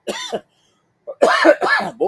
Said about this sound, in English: I'm coughing and I got a little bit of sinuses there